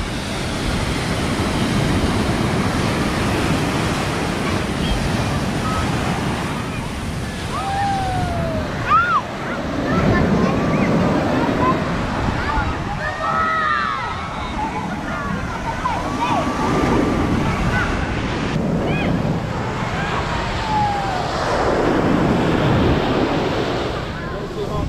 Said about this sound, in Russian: сегодня просто отличная погода, волна бьет.